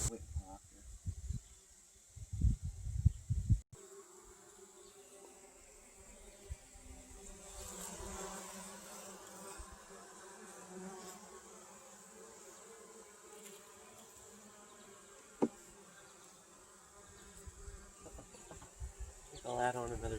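Honeybees hum in front of an open hive, a continuous close buzzing that fills the clip, with a few louder handling knocks near the start.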